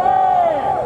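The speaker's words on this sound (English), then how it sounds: "Give them a cheer." An audience at the EGX 2019 gaming expo lets out a brief, loud burst of cheering and yelling, a sustained wall of voices that fades slightly at the end.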